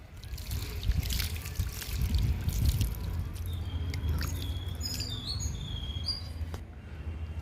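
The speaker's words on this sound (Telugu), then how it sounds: "కొన్నగంటి కూరకి వాటర్ ఇస్తున్నాను" Soft, steady trickle of water pouring onto potting soil in a tub of ponnaganti greens, close by, with faint birdsong in the background and no talking.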